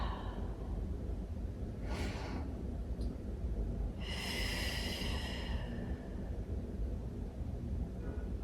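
Deep breathing during a beginner yoga stretch for lower back pain, with two clear breaths: a short one and then a longer, fuller exhale, each heard up close over a steady background hiss.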